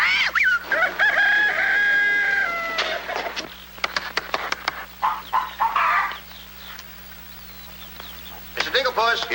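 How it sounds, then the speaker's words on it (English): Hens cluck busily while a rooster crows loudly and near, its long calls rising over scattered clucks and flutters in a farmyard. "I'm going to tap every one of those hens till I find the one that lays the golden egg"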